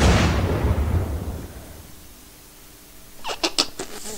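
A blast in the survival game Unturned booms loudly at the start and rumbles away into quiet, followed by a few sharp cracks like gunshots near the end.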